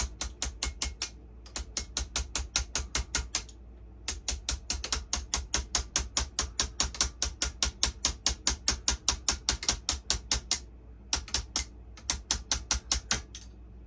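A pin being driven out of a 1/14 RC4WD bulldozer with small taps, heard as crisp, evenly spaced metallic clicks in long rapid runs broken by brief pauses.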